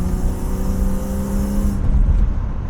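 A small, modest-performance car cruising at about 30 mph in third gear through an industrial estate, its engine note a steady, close hum that drops away near the end, with no talk over it.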